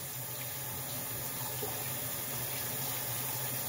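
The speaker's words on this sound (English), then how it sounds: "Well, I'm washing my hands." A sink tap runs steadily while hands are washed beneath it, a continuous close rush of water with no breaks and no talking.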